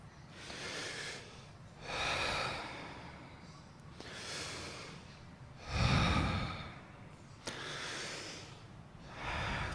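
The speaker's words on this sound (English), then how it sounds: "Let's all take a breath." Several people breathing deeply together in a guided group breathing exercise, slow airy inhales and exhales repeating every couple of seconds, one heavier gusty breath near the middle, close and clear with no talk.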